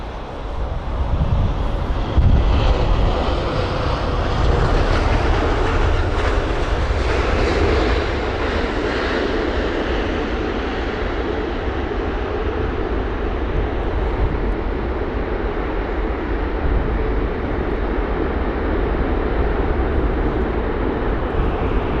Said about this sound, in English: So really nice A380, amazing.